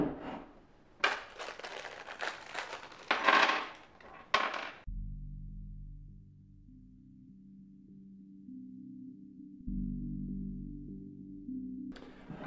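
Opening the cover of a Foscam FI9928P camera gives a few seconds of close plastic clicks and scraping, then a low steady hum that lasts to near the end.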